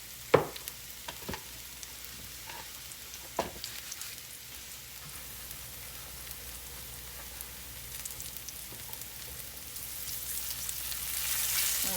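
Onions frying and caramelizing in a pan for brown gravy, a steady soft sizzle with a few sharp pops and stirring clicks early on, the hiss growing brighter toward the end.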